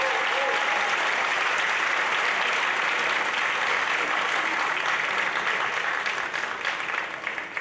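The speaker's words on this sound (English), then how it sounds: "Please give yourself a round of applause." A graduation ceremony crowd applauds itself in a steady, dense, loud wash of clapping that carries on throughout and thins slightly toward the end.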